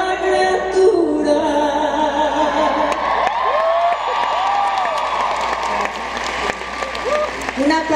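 A large crowd at a live concert applauds loudly, with cheers and whoops throughout, while voices call out over the sustained clapping.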